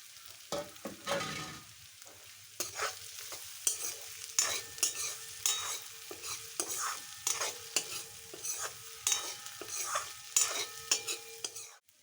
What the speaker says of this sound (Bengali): কাঁচা লঙ্কা চেরাগুলোও দিয়ে দিচ্ছি